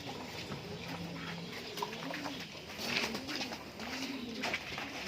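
Pigeons coo in repeated low, rolling phrases, several birds overlapping at close range against a steady background hiss.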